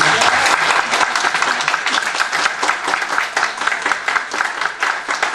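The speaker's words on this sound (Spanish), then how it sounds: "démosles un aplauso a nuestros ponentes" An audience at an academic forum panel applauding its speakers, dense, loud, sustained clapping from many hands, with no talking over it.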